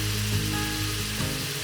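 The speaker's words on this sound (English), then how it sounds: "This sauce is now at a rolling boil and it has stopped foaming." Homemade barbecue sauce at a rolling boil in a pot on the stove, a dense continuous bubbling sizzle with a low steady hum beneath, close and unbroken, no voices.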